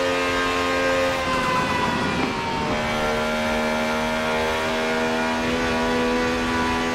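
A racing car engine in Forza Horizon 4 holds a steady high drone, shifts pitch partway through into fifth gear, then keeps running loud and constant.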